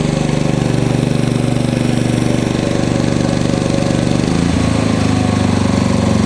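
A KEMAGE KM5000io inverter generator runs steadily under load, a loud continuous engine drone with a rough, buzzing pulse, and its pitch drops and settles lower partway through as the engine shifts to economy mode.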